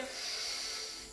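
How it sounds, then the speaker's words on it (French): A forceful breath pushed out through the mouth during a Pilates exercise, a close, steady hissing rush of air lasting about a second. "Je dois entendre votre expiration d'ici."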